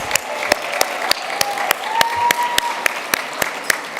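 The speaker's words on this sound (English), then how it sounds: "All the moms here, give yourself a round of applause." Luncheon audience at a Women's Hall of Fame event applauding the mothers in the room, a steady wash of many hands clapping with a few sharper claps standing out, fairly close and continuous throughout.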